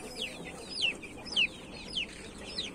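Chicks and a rooster cluck nearby after being let out, with several sharp, high, falling chirps repeating at roughly half-second intervals over a soft background of farmyard noise.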